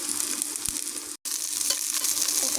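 Eggs sizzle in a pan of cooked-down onion spice paste during preparation of an egg bhuna, a steady close crackle with one brief cut to silence partway through.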